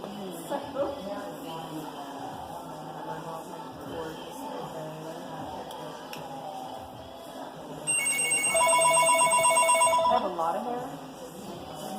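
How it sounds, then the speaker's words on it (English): A telephone rings with an incoming call, giving a bright electronic trill for about two seconds. People chat in a room before it, and a steady background hum runs throughout. "Call from wireless caller."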